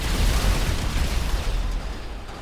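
A detonated explosive goes off in Grand Theft Auto V, a dense, loud rumbling blast that rolls on for a couple of seconds with heavy low-end roar, no voices over it.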